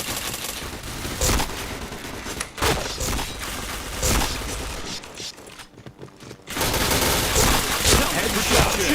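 Dense automatic gunfire in the video game Point Blank rattles in rapid bursts with a brief pause midway, then resumes loudly, mixed with game effects and a faint voice.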